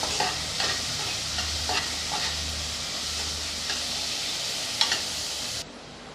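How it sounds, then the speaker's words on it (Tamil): Onions sautéing in a pan for a tomato kulambu, with a steady sizzling fry and repeated scraping stirs of a spoon against the pan, fairly close and continuous, with no talking. "வெங்காயம் ஓரளவுக்கு நல்லா செவந்து வரட்டும் அது வரைக்கும் நல்லா வதக்கி விட்டுக்கலாம்"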